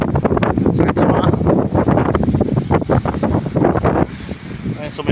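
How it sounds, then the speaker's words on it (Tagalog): Strong wind buffets the microphone on a beach at San Miguel, roaring loud and continuous in gusts with possible surf beneath, easing slightly near the end. "ang lakas talaga ng hangin dito"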